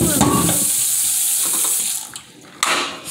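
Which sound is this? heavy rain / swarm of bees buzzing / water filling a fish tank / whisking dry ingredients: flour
water filling a fish tank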